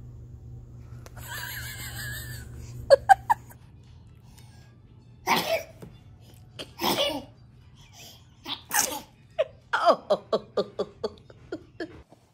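A baby sneezes several times in a row, loud and close, with bursts of giggles and an adult's voice in between, over a steady low hum.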